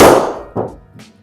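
A golf 3 wood strikes the ball straight off the deck with one loud, sharp, ringing impact, followed by two fainter knocks as it fades, with no talk.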